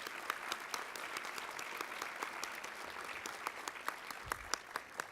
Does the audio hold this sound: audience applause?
yes